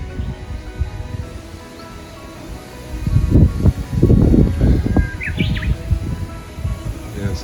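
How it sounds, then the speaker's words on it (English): Garden trees in a cloudy, windy Japanese garden rustle with gusty, swelling leaf noise that builds in the middle, while birds chirp and tweet intermittently nearby. "Yes, it's rather windy this morning."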